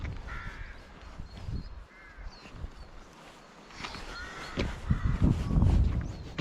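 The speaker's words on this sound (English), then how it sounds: "Rooks stick together in what you call a rookery, and crows nest separately." Several harsh caws from a group of rooks at a rookery, scattered at varying distances over steady outdoor background noise, with a louder burst near the end.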